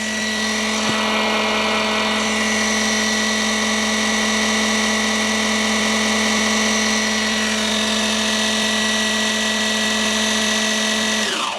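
A Dremel MS20 Moto Saw running at speed 6, a loud, steady high-pitched motor whine with a constant buzzing tone, close and uninterrupted, trailing off at the very end.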